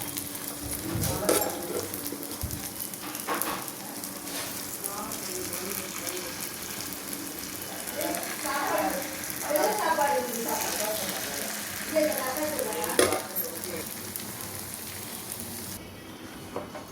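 Paniyaram batter of rice flakes, semolina, wheat flour and idli batter poured into hot oil in a paniyaram pan, giving a steady close sizzle and crackle that runs throughout, with a voice talking over it.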